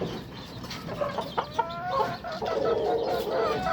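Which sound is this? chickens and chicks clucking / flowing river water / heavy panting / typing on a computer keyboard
chickens and chicks clucking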